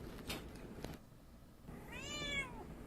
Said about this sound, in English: I can hear your damn cat in the background